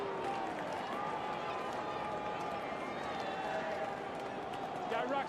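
A large stadium crowd at an Australian football match at Domain Stadium, a steady distant roar and murmur from about 35,000 spectators, continuous and fairly even, with a commentator talking over it.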